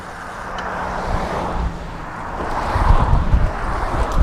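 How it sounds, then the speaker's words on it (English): A car approaches and rolls past on a wide greenway bike trail along the River Des Peres, its low rumble swelling toward the end beneath steady wind buffeting the microphone. "You just gotta watch out for, you know, things like cars like this guy."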